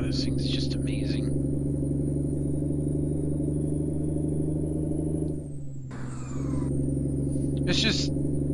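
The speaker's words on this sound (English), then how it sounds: "Maybe a better engine sound." A truck engine in Euro Truck Simulator 2 drones steadily at a low pitch, briefly dipping and shifting mid-way before resuming, with short bursts of voice at the start and end.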